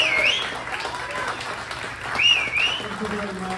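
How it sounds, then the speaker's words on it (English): An audience gives a steady round of applause for a guest at an event, dense clapping sustained throughout with a voice speaking over it. "If you give Avi a round of applause"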